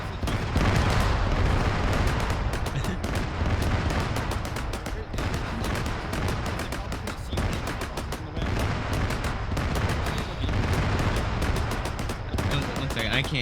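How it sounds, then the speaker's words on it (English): Gunfire and explosions from a multiplayer shooter video game crack in dense rapid bursts, with booming blasts, loud and continuous throughout, and a voice talking over the barrage. "One second, I can't hear you over the explosions."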